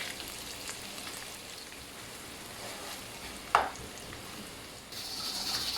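A large chopped onion with spices fries in a pot for mutton malai curry. It gives a soft, steady sizzle throughout, with a single brief utensil clatter partway through.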